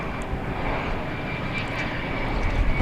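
An American Airlines jet takes off from DFW Airport, its engines producing a loud, steady broadband roar that holds level throughout and swells slightly at the end, with no talking.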